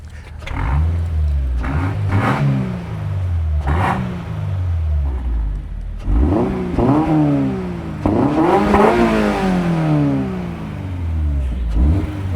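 A V10 sports car engine revs hard again and again, pitch sweeping up toward about 8000 rpm and dropping back, loud and close with no talk over it.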